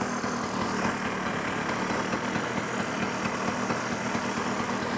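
A Stella two-stroke scooter engine runs steadily at idle on stock carburetor jetting, a close, even buzzing putter that holds without a break.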